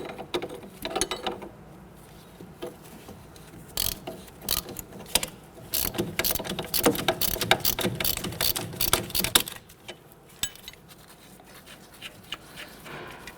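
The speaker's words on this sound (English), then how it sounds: "We have it on a ratchet." Rapid metallic clicking of a ratchet wrench turning a nut on the front CV axle of a 2006-2014 Honda Ridgeline 3.5L V6, in quick bursts of ticks with short pauses, close up and fairly loud.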